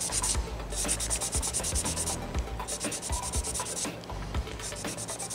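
A sanding stick scrapes over the plastic body of an Aoshima Lamborghini Aventador scale model kit in quick, even back-and-forth strokes, close and clear, with short pauses between runs and no talking.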